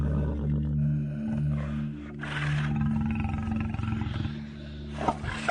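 A lion's deep, rumbling roar builds into a long, loud growl and fades, set over a sustained musical drone.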